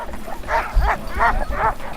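Sled dogs at a summer glacier camp bark and yip in a quick series of about four close, mid-loud barks. Steady outdoor background noise sits underneath.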